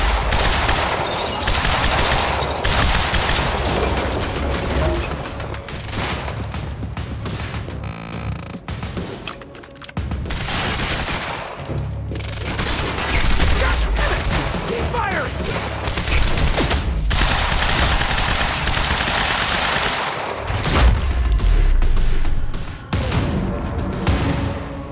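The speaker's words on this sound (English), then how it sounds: "Opening fire!" Sustained gunfire from the Xbox video game Quantum Break, with dense machine-gun bursts and volleys rattling almost without pause over a heavy low rumble, loud and close.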